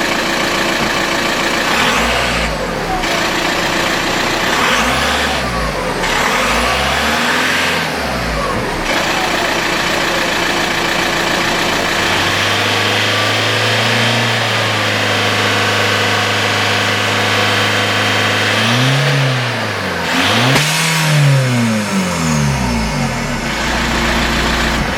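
A Seat Ibiza TDI diesel engine with a turbo problem revs repeatedly, climbing and falling in pitch over a steady loud idle clatter, with several rev bursts near the start and again toward the end.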